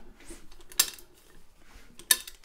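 A small block Chevy distributor drops into its seat in the engine, giving two sharp, close metallic clinks a little over a second apart against a quiet workshop background.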